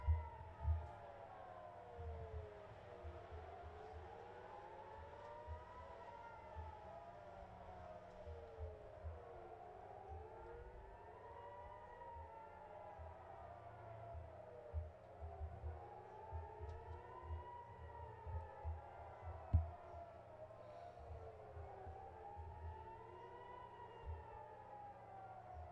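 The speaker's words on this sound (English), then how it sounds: "There we go, sirens!" Air raid sirens in Israel wail continuously in long rising and falling sweeps, several overlapping at a distance, steady throughout with occasional low thumps and rumble underneath.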